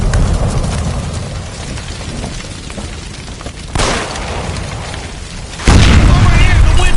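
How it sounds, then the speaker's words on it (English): A gas line explodes in the video game LA Noire, with a sudden loud boom and rushing burst that returns as a second, stronger blast, over a constant dense roar of fire and game noise. "Shoot the gas line, Cole, we're out of here!"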